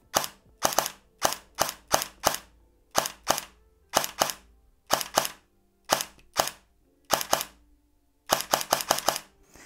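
A Cyma CM.131 airsoft electric pistol, running on a 7.4V battery with precocking active, fires crisp, close shots in quick bursts of two to four, separated by short pauses, with twenty or so snaps in all.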